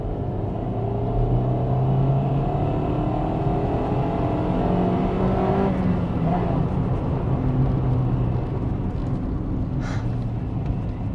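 A 1998 Honda Integra Type R engine revving hard and accelerating toward high rpm, a loud sustained close roar that shifts pitch, with voices faintly underneath.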